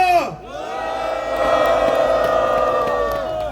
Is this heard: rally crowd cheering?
yes